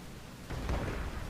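Cannon fire in the video game M.A.V. hits with a sudden heavy boom about halfway through, followed by a rumbling, crackling burst over low background noise.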